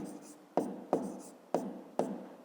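Pen writing numbers on paper during a fifth-grade math exercise, four crisp taps with brief scratching strokes between them, close and quiet.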